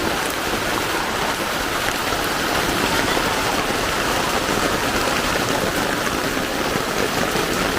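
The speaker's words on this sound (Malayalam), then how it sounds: "ഇത് രാത്രിയായപ്പോൾ കിടില മഴ." Heavy rain pours down at night in a dense, unbroken roar of drops that stays loud and even throughout, with no voices.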